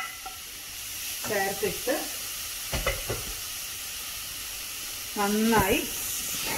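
Grated carrot frying in ghee over a medium flame, a soft continuous sizzle with occasional stirring scrapes, heard beneath intermittent speech from a nearby voice.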